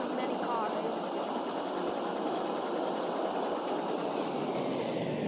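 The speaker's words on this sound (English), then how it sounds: "I'm a train that likes pulling many cars." A narrow gauge model train pulls a long string of cars, giving a steady, unbroken rolling rumble at an even level throughout.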